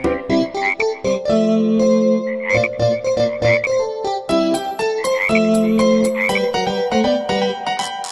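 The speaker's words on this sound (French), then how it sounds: "Deux petites grenouilles tachetées, assises sur une bûche tachetée" Cartoonish frog croaks in a French children's Christmas nursery song about spotted frogs, sounding as bright, rhythmic croaking notes mixed with chiming music, loud and upfront with no talking.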